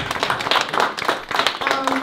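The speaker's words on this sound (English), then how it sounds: "Can you guys please give her a round of applause?" Audience applause at an African in America showcase event, a scattered crowd clapping for about two seconds with uneven, lively rhythm, some voices mixed in.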